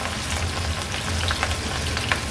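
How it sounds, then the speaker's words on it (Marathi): Pieces of crispy disco bhaji deep-fry in oil over a low to medium flame, producing a dense, even hiss of bubbling oil with faint crackles, close and steady. "कापून घेतलेली ही भजी पुन्हा आपण याच तेलामध्ये लो टू मीडियम फ्लेमवर उलटपालट करून फ्राय करून घेणार आहोत।"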